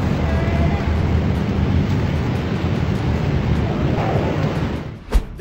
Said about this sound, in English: There are some big waves here.